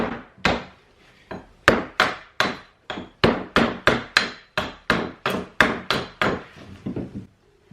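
A new, unsharpened, varnished axe bought from Amazon strikes wood in a rapid series of about fifteen sharp, loud chops, each blow ringing briefly before the next, with no voices.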